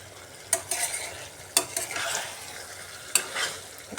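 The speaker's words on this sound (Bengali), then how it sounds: "এইভাবে মশলাটা চালকুমড়োর সাথে ভালোভাবে মিক্সড করে নিয়ে নিয়েছি" Spices being stirred together with ash gourd in a hot pan, giving three sharp scraping strokes spaced over a steady low sizzle, close and fairly quiet with no talking.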